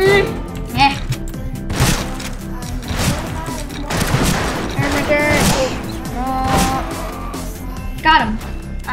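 Gunfire from the mare's leg lever-action gun in the game Fistful of Frags comes as several loud, sharp shots spaced irregularly across the stretch, mixed with game music and sound effects, with voices talking over it.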